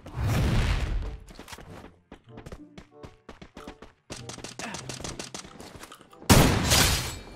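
Gunfire from the Free Fire battle royale video game comes as rapid bursts and single cracking shots with loud booms at the start and end, while someone talks excitedly in between.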